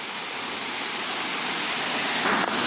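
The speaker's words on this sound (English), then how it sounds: "Now, we've just got to work out how we can get to the actual waterfall to go for a swim." Steady broadband roar of a waterfall heard up close, a continuous dense rush of falling water with no pauses, loud and unbroken throughout.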